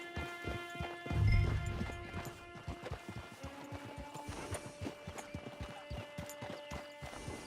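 Horse hooves clip-clop in a steady, fairly close rhythm near an outdoor camp, with a brief louder low thump early on and no talk over the hoofbeats.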